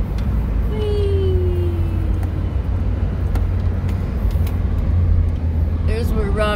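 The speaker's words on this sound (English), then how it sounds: "There's a car coming." A car passing on a frosty road, heard from inside another car as a steady broad engine and road rumble that stays loud throughout, with a brief voice near the end.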